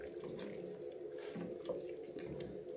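Boiling water pours and splashes into a stock pot during home batch cooking, a steady, close watery rush that runs throughout with a brief splash near the middle.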